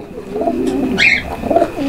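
Soft, rolling pigeon coos repeat close by, a low throaty murmur with a brief brighter rustle in the middle.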